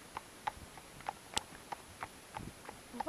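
Horses walk along a countryside trail, their hooves giving a steady, faint clip-clop of evenly spaced knocks over quiet outdoor surroundings.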